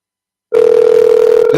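During an outgoing phone call, a loud, steady ringback tone starts abruptly after a moment of silence and holds unbroken to the end.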